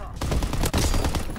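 Rapid, dense automatic gunfire from a strafing run killstreak in a World War-era shooter video game, loud and continuous with a brief break midway, close and unbroken by talk.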